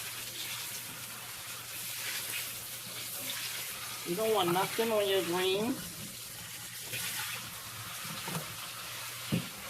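Steady rush of tap water running into a sink while collard greens are rinsed, with a person speaking briefly over it partway through.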